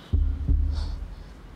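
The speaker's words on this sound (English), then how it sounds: "There's the racing heartbeat." A racing heartbeat sound effect thumps out two heavy, deep low beats in quick succession, followed by a lingering low hum, loud and close with no talking.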